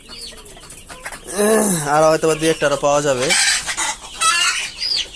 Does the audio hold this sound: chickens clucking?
yes